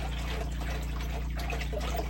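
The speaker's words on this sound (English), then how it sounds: "Basically just need enough water in here to cover the pump." Water trickles and splashes as it is poured into a cleanup sluice to cover its pump, a close, steady liquid sound running alongside a constant low mechanical hum.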